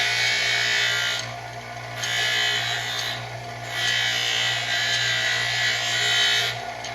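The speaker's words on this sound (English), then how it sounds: "So I'm just using my little bench grinder over here." A small bench grinder rounding off a plexiglass part, its steady motor hum underneath three bursts of harsh grinding as the piece is pressed against the wheel, each lasting about a second or two, close and fairly loud.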